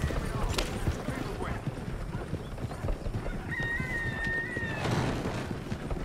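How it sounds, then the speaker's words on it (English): Horse hooves clip-clop steadily in a video game, a busy rhythmic trot under voices speaking, with a whinny-like tone drawn out partway through. "Careful, that's a horse."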